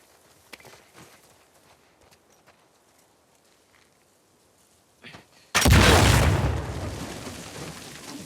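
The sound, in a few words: loud explosions in The Last of Us Part II video game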